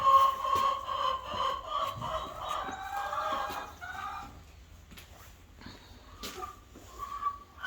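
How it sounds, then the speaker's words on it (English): Chickens cluck and murmur close by inside a coop, busy at first and then quieter, with occasional knocks and rustling. "I've woken up the chickens."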